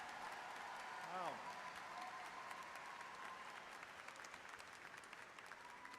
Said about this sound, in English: Another round of applause for our master students.